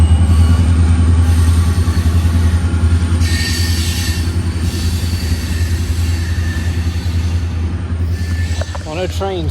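A loud train rumbles past on the rails, with heavy low droning, metallic screeching wheels and a squeal near the end.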